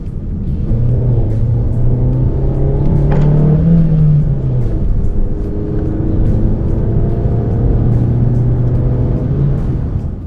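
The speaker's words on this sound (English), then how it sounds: "all of that engine noise just kind of seeping into the cabin so easily" Engine noise from a Honda Amaze heard from inside the cabin, a steady loud drone with a rising and falling pitch as the engine revs, continuous throughout with no talking.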